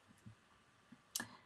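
A few soft, quick clicks of a computer mouse in a quiet room, ending with one sharper, louder click.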